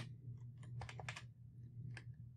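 Typing on a computer keyboard while entering code for a programming assignment, a quick run of close, crisp key clicks in irregular bursts with brief pauses, alone and fairly quiet.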